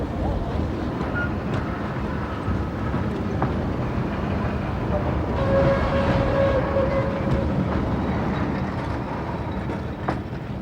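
A Patagonia Express train in Argentina rumbles along in a steady low drone with faint metallic squeals and clatter, loud and continuous throughout.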